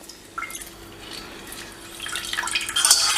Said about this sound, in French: je verse le jus directement dedans